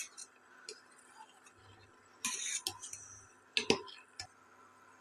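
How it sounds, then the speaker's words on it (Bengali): A spoon stirs two spoonfuls of powdered milk into simmering milk for sago payesh, giving a few sharp clinks and scrapes against the pot in short bursts over a quiet background. "আমি 2 চামচ মতো গুঁড়ো দুধ দিয়ে দিচ্ছি, দিয়ে ভালো করে মিক্সড করে নেব।"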